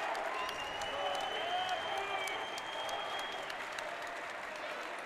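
An arena crowd at a pro singles racquetball final applauds and cheers the winner, a continuous wash of clapping with a few whistles and shouts, sustained for around five seconds.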